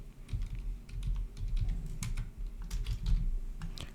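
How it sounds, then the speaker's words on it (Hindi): Steady rapid clicking of keys on a computer keyboard as a coupon code is typed, close and fairly quiet, with no voices. "तो आपको यहाँ पे कूपन कोड एंटर करना है"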